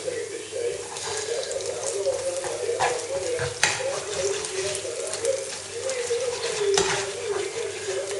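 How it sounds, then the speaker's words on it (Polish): Scrambled eggs sizzle and crackle steadily in a hot pan, with occasional scraping and stirring clatter close by. "Nam się jajecznica już zaczyna smażyć"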